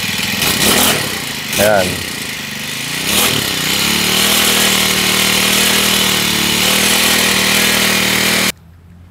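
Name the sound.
Honda GX35 clone grass cutter engine revving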